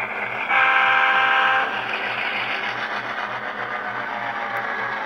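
An HO scale Athearn Genesis GP9 locomotive sounds its horn through a Tsunami 2 sound decoder, a single tonal blast of about a second over the steady chugging of the model's diesel engine sound.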